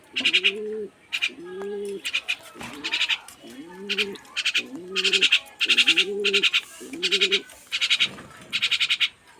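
A pet dove coos close by in a steady series of soft, rounded calls. Each coo repeats at regular intervals with brief pauses, and no other sound competes.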